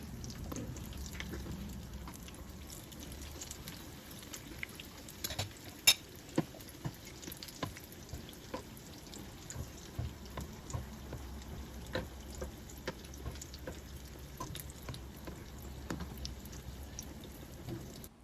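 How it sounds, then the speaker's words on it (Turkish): Puffy fried dough pieces with filling being flipped and cooked on the other side in oil; a steady, soft sizzle with scattered small pops and clicks, close by, with no talking. "Dikkatli bir şekilde ters çevirerek diğer tarafını da kontrollü bir şekilde kızartalım."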